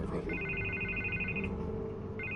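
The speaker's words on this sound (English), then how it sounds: "I can't get the phone to stop ringing." A telephone rings in a scene from the Batman Telltale Series video game, with a steady electronic trill in two bursts under faint background ambience.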